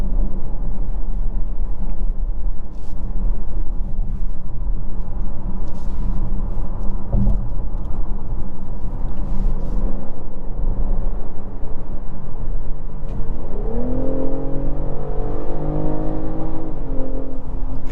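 A 2024 BMW X6 xDrive40i with an 8-speed automatic accelerates under kick-down, a loud, steady engine drone heard from inside, with the pitch sweeping up near the end as it pulls harder.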